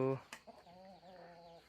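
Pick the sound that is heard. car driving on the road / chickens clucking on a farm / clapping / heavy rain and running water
chickens clucking on a farm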